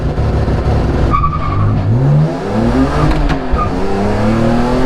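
BMW E46 M3 launching on a race track using launch control and flat shifting, the engine roaring loud and close, revs climbing in rising sweeps with quick shift breaks as the car pulls away hard.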